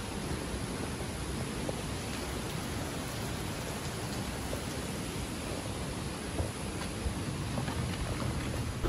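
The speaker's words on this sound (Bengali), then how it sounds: "এগুলো বৃষ্টি না, এগুলো ঝর্ণার জল" Water spray from Kanchenjunga Falls in Sikkim rushes in a dense, unbroken broadband hiss like heavy rain, steady and loud throughout with no voices.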